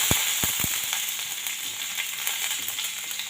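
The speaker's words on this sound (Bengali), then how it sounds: "গরম তেলে তেজপাতা দিয়ে দিলাম, দিয়ে দেব রসুন কুচি" Bay leaves and chopped garlic sizzling in hot oil, a steady close frying hiss with a few sharp knocks at the start as the ingredients go in.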